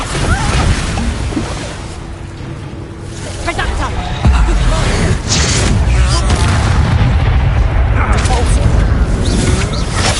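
A Bombarda spell detonates in Hogwarts Legacy with a loud, booming blast amid battle effects and a rumbling crash, while game characters speak over the action.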